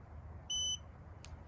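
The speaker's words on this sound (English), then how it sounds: "Get that beep, that means it's booting up." A SparkFun RTK Torch surveying receiver gives one short, clean electronic beep as it boots up, followed by a faint click against a quiet background.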